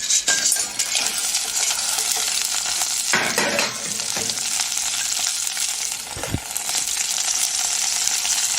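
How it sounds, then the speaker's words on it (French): Shellfish fry in smoking-hot olive oil with a steady, dense sizzle throughout, broken by a few brief clinks and stirring scrapes of a utensil against the pan. "Dès que l'huile commence légèrement à fumer, verser les crustacés."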